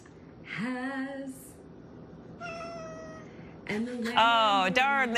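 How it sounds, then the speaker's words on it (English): A house cat yowls and meows with a woman singing a medley of familiar songs. Three rising and wavering calls sound close by, and the last one is the loudest and longest. "a beautiful medley of favorite songs sung by a woman and her cat"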